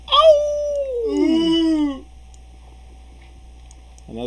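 Dog howl played from a game soundboard: a long, wavering, falling canine howl with whimpering yips, loud and close, followed by quiet and a brief voice at the end.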